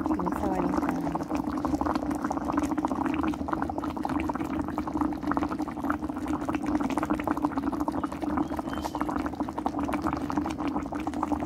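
A pot of Thai tom som soup with fried tilapia and sliced mature ginger simmers, giving a steady, even bubbling that runs without a break beneath continuous talking.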